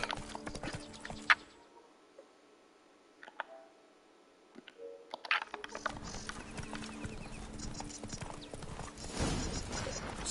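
Geralt's horse Roach in The Witcher 3 game, hooves clip-clopping in a steady rhythm at close range, dropping away to near silence for a few seconds before the hoofbeats resume with light clicks.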